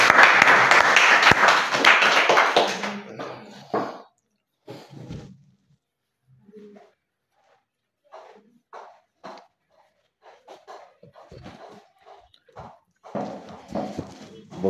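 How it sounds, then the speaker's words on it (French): A congregation at a church gathering in Bafoussam bursts into dense, loud applause and cheering for the Lord. The clapping dies away after about four seconds, leaving scattered quieter sounds and murmurs, with a brief swell of noise near the end. "Acclamons pour le Seigneur."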